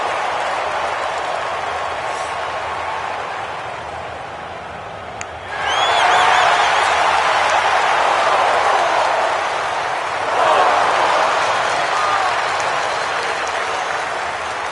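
A video-game golf crowd at TPC Scottsdale's 16th hole in PGA Tour breaks into loud, sustained applause and cheering, swelling abruptly and then surging again, with a steady roar throughout.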